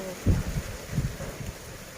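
Wind gusts buffet the microphone outdoors in the evening while shallots are being cut, giving low rumbling bursts in a few uneven pulses over a quiet background.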